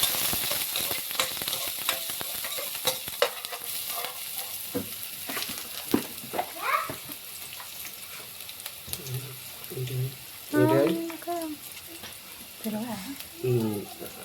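Curry leaves and onion frying in a pan for a Maggi noodle preparation: a sizzling crackle with stirring scrapes throughout, dense early and thinner later, under a voice that talks intermittently in the second half.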